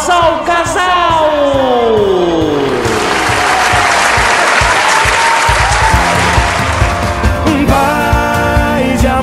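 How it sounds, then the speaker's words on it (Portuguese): Wedding guests stand and applaud the couple, a dense, loud wave of clapping that swells over music with a sung melody, continuing steadily to the end with a few whoops. "bata palmas ao casal!"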